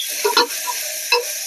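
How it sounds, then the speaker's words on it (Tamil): Ginger garlic paste and onion sauté in a pan for mutton intestine curry, a steady close sizzle broken by two short bursts of stirring scrapes, no one speaking. "இஞ்சி பூண்டும் வெங்காயமும் நல்லா வதங்கிடுச்சு"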